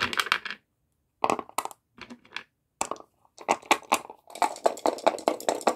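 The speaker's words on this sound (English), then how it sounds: "Rolling for four dice at two." Dice rolling and clattering in a strategy video game, several bursts of rapid clicking and rattling separated by short pauses, the last burst longest and densest.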